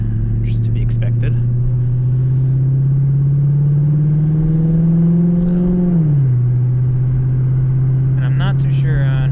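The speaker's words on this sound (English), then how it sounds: "Not too sure on how fond I am of the sound of this exhaust. It's very exotic." A car fitted with a big, slow-spooling single turbo and an S6 exhaust accelerates, giving a loud, steady low engine drone that climbs in pitch and then drops sharply as it shifts, with faint clicks and whirs at the edges.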